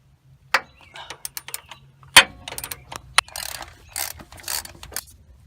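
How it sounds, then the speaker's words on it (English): A wrench works loose the oil filter on a 1997 Dodge Ram 1500, giving sharp, close ratcheting clicks and metallic clanks in irregular bursts with short pauses between. "Place the wrench on, then crack it loose."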